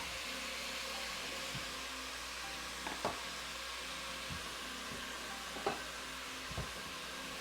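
Ground beef browning in a pan for chili, a steady faint sizzle with a few soft scrapes and taps of a utensil, no talking.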